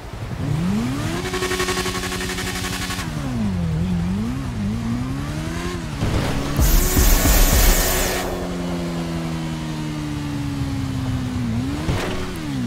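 Kawasaki Ninja H2 motorcycle engine in the game GTA 5, revving loudly and close with rising and falling pitch across several throttle swells, a harsh noisy burst in the middle, then a long steady high drone.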